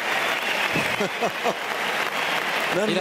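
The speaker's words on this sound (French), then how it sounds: "Il applaudit ce coup exceptionnel" Spectators at the 2007 Roland Garros men's final on clay, Federer against Nadal, applaud a point with a broad, steady wash of clapping, while a commentator talks over it throughout.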